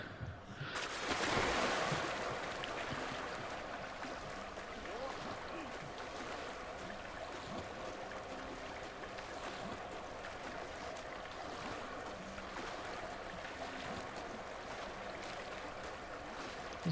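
Splashing and water sloshing as a character dives and swims in a lake near a dock in Hogwarts Legacy, a steady watery wash with a brief louder splash at the start, continuing evenly throughout without speech.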